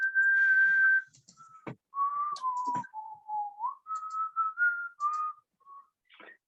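A person whistles a wandering tune of sustained notes and short phrases over an online meeting, clear and close, with a few clicks between.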